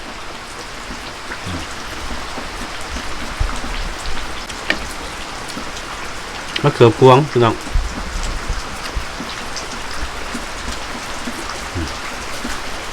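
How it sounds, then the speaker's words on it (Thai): Rain falls steadily in a forest at night, a soft continuous patter on surfaces, with a short burst of voices talking partway through. "ฝนตกแล้วเนี่ยฝนตก"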